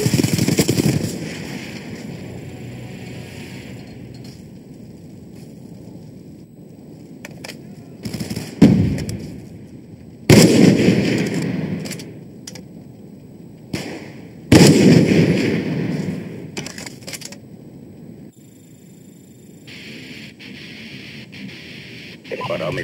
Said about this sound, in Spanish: ¡Granada, ojo!